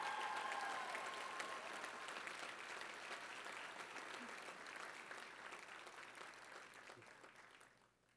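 An audience at a school district athletic hall of fame ceremony gives sustained, dense applause that holds steady for several seconds and then tapers off at the end.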